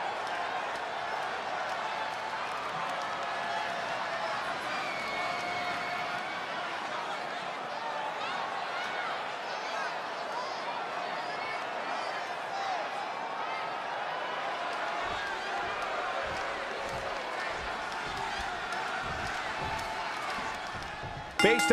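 A wrestling arena crowd keeps up a steady, dense roar of cheering and applause for the full stretch, loud and continuous, with a sharp impact-like burst at the very end.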